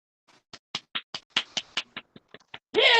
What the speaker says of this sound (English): Sorry, I had to give you a clap then